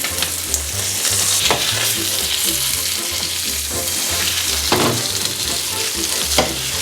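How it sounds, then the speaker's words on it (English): Loud, steady sizzling of beef browning in butter in a hot frying pan, with occasional stirring scrapes and a low hum underneath. "we're going to pop our beef into our frying pan"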